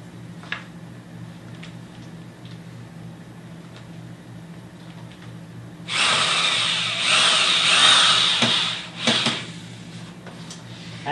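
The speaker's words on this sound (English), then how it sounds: "The wood chips from this do not come out from the edge of the drill as easily as the chips from ordinary wood." A power drill bores into a wood composite block, whining steadily for several seconds after a quiet stretch of faint hum and ticks, then stopping with a short burst.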